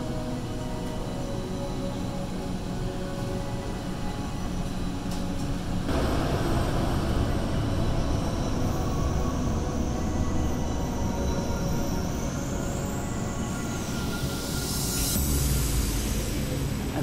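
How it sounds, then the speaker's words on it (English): Underground airport tram at Pittsburgh airport running between the main terminal and outer concourse, a loud steady rumble and rolling hum inside the car, with a brief rising electric whine near the end as it slows. "You have to take this underground tram to get from the main terminal to the outskirts of the airport."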